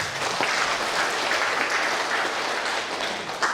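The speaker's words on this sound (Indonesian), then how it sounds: "Tepuk tangan untuk Pak Wakil Bupati." Audience at an Indonesian credit cooperative's annual meeting gives the Deputy Regent steady, dense applause, continuous and fairly loud from start to finish.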